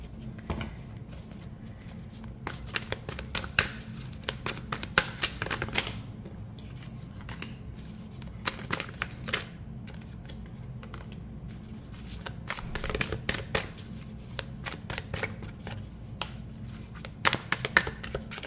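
Tarot cards are shuffled by hand again and again, a close run of crisp riffling bursts and soft slaps repeating in uneven waves for the whole stretch, with no one talking.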